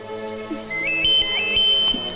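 A phone rings in a Bhojpuri film scene, giving a bright electronic ringtone of repeated melodic tones that starts partway in and repeats, loud and alone, over a faint background hum.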